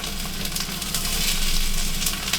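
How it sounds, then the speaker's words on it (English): Sliced onions sizzling in a hot pan during a squash and green tomato sauté, a steady bright frying hiss that swells slightly as they settle in, close and continuous. "let's go ahead and throw these onions in there"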